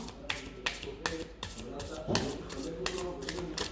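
Tarot cards are shuffled by hand, a rapid series of sharp riffling snaps roughly every quarter second. A voice talks quietly underneath.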